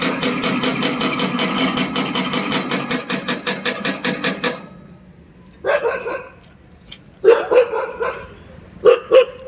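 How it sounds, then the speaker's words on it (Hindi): Dogs barking at a wedding procession, a quick rhythmic series of loud barks at first, then separate short bursts of barking spaced apart, near and loud, with no talking. "ये कुत्ते बड़े खतरनाक हैं"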